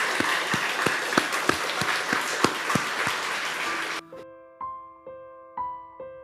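A church congregation claps in brisk, loud, sustained applause with distinct individual claps. After about four seconds it stops abruptly and soft sustained keyboard-like tones take over.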